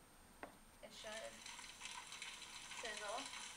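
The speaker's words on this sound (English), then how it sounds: "sizzle." A sizzle sound effect from a clickable button in a lesson on onomatopoeia, heard as a short hiss burst that swells into a steady crackling sizzle lasting a few seconds, with a brief drip-like blip before it and a voice speaking over part of it.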